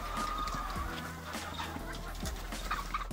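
Rescued hens cluck and murmur in snow, a cluster of soft, overlapping bird calls close by with a steady low background rumble, no voices.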